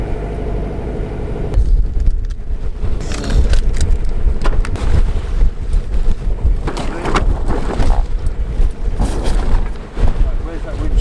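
A sailboat's engine drones and rumbles while the new boat motors out, its pitch rising with added revs, mixed with heavy wind buffeting and water noise, with people talking over it.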